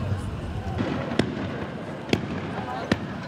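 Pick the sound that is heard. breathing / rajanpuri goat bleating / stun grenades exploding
stun grenades exploding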